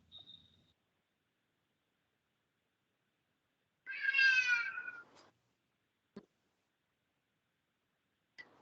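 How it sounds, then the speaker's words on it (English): A pet cat lets out one loud, strained, screaming meow for food, briefly and alone in a quiet room, followed by a couple of faint clicks. "Did you just hear my cat screaming?"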